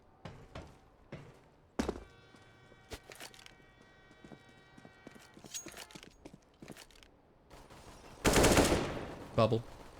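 AK rifle gunfire in a Counter-Strike match on the Train map comes as scattered sharp cracks and short bursts, faint and intermittent, with a louder volley near the end.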